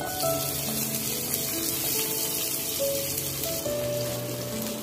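Steady, close sizzle of chopped onion frying in a pan, continuous throughout with faint clinks and stirring underneath.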